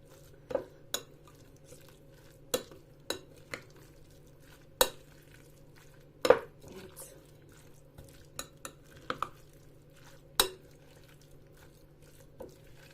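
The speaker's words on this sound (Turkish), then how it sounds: "Güzelce karıştıralım." Rice filling for stuffed peppers being stirred in a bowl with a spoon, sparse sharp clinks and taps against the dish over a quiet background, close and without speech.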